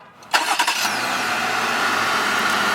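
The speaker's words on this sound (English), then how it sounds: "we can double tap the engine start button" A 2019 Jeep Wrangler Rubicon JL engine cranks with a few quick sputters after a push-button start, then fires and settles into a steady, even idle close by.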